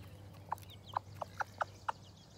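A chick clucks close up in a feed bowl, a series of six short, evenly spaced notes over a low background hum.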